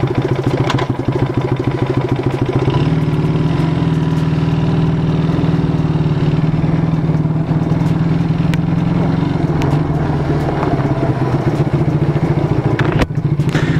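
A 1974 Honda CD175 motorcycle engine runs steadily and close, a loud mid-pitched putter with clattery mechanical texture, shifting tone slightly as it settles into a steady idle.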